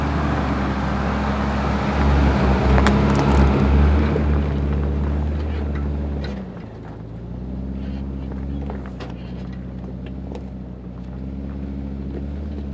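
A 4WD grinds along an off-road mountain track in the Victorian High Country, its engine droning low and steady with wind buffeting the microphone, the load easing briefly midway before the motor picks up again.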